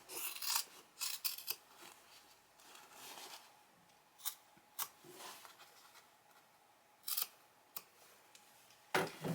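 Scissors trimming a fabric corner close to the stitches: a scattered series of sharp, crisp snips and rustling cuts, near and quiet, with nothing else heard.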